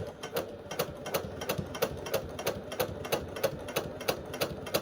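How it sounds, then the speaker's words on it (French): A domestic sewing machine stitches close by, sewing a zip into a top, with a steady, rapid mechanical rhythm of needle strokes that runs evenly throughout with no talking. "Et entendre le bruit de ma machine."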